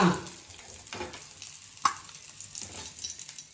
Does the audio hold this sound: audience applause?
no